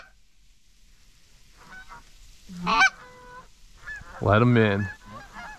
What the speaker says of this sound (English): I don't think we should pass shoot any geese on this angle